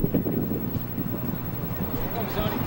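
Harsh wind buffets and rumbles steadily across the microphone at a baseball game between New Trier and Maine East, a constant low roar with voices faintly mixed in.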